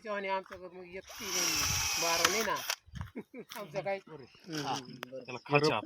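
A battery-powered drill whirs in one loud burst lasting over a second while drip irrigation is installed on a farm, set between stretches of close, lively conversation.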